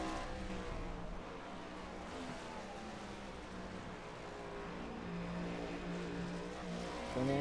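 Race cars taking the penultimate turn at Watkins Glen during practice, a steady droning engine note with shifting pitch as the cars sweep through the corner, moderately distant and fairly quiet.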